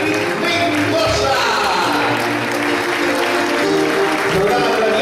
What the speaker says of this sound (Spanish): Fuerte aplauso a los invitados de San Rafael Mendoza.